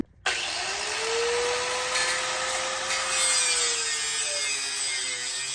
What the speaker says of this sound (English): It's grinding time. Safety first when using a grinder.